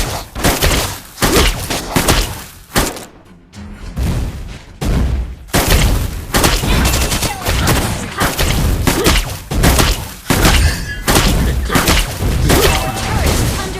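Heavy rapid gunfire and booming impacts fill a Klin mobile game battle as a turret comes under attack, loud and continuous with bursts and crashes and a brief lull near the middle.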